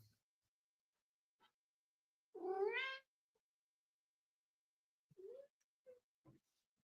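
A pet cat named Rocket Kitty gives one clear, rising-falling meow in a quiet room, followed later by a few softer, short chirping mews.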